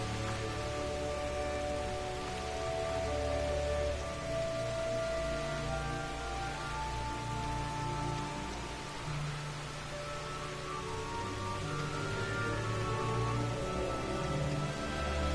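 Steady rain falls in Gridania, a forest city in the Final Fantasy XIV video game. The soft, continuous hiss plays under sustained music tones throughout, without any talking.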